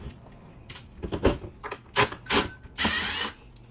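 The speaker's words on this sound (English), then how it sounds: "We're gonna remove the screws." Screws come out of a JBL Boombox speaker casing, with a few short ratcheting and clicking bursts from a screwdriver ending in a longer buzzing turn, close and fairly quiet.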